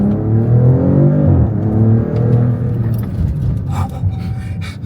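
A 2026 Dodge Charger drag build accelerates hard, its loud engine note climbing in steady harmonic sweeps and then settling into a rough, close rumble with faint whirring at the end. No one speaks.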